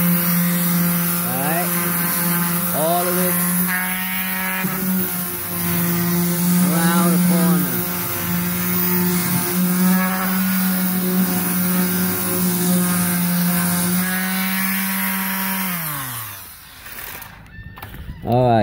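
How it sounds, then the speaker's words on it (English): Power sander running on the bumper of a Ford E-450 jitney bus, a steady motor drone holding for about fifteen seconds before it cuts out, with chirpy tonal sweeps over it. "you turn on this and sand it down soft and nice"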